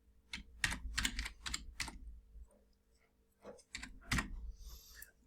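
Close, quiet typing on a computer keyboard: two quick bursts of key clicks separated by a short pause, with no voice.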